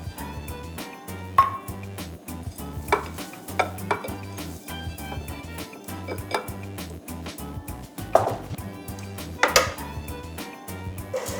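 Mixer stirring flour, oats and raisins on a low speed in a bowl, a steady rhythmic churning with clinks and scrapes like utensils against dishware throughout.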